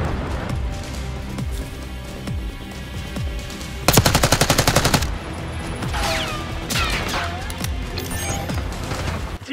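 Gunfire in the Black Ops 6 open beta, with scattered shots and a loud, dense burst of rapid automatic fire in the middle, followed by more shooting and whooshing game effects.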